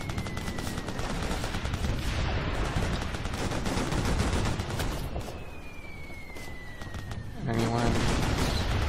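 Rapid automatic gunfire and distant explosions from the video game Operation Flashpoint: Red River, set in Tajikistan, crackle continuously at high intensity, easing briefly before a heavy burst resumes near the end.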